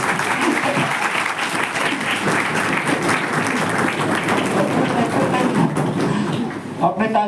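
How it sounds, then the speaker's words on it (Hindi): Students clap together in a lecture hall as a lecture ends, a dense, steady burst of applause that carries on throughout, with a few voices mixed in near the end. "आपने ताली बजा के लेक्चर खत्म किया"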